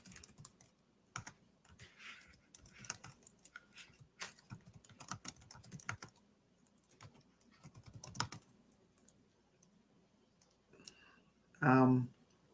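Computer keyboard typing while someone enters a website address, soft irregular bursts of key clicks spread across the clip with a brief louder thump near the end; faint speech is present.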